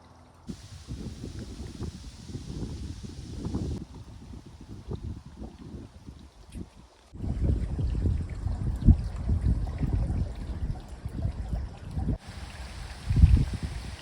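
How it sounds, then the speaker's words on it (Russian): Wind gusting through a Mediterranean-style pebble rock garden, a soft rushing noise that swells and eases, growing stronger midway and continuing steadily, fairly faint with no voices. "Слышите ветер?"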